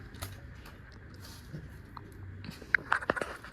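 A Rottweiler chewing a frozen watermelon treat close by: quiet crunchy bites early, then a burst of sharper, louder crunches near the end over a low background rumble.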